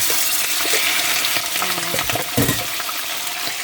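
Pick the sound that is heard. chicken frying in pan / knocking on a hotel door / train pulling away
chicken frying in pan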